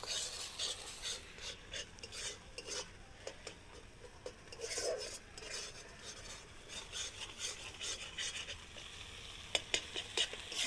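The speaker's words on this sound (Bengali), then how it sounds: "মশলাটা ভালো করে মিশে যাবে, ভালো করে নাড়িয়ে নিতে হবে।" A spatula scrapes and stirs masala with cashew paste in a pan for gondhoraj katla fish curry, with soft repeated rasping strokes and light sizzle, quiet and close with no voices.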